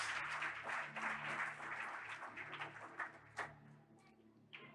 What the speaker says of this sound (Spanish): dale fuerte ese aplauso al Rey de Reyes y Señor de señores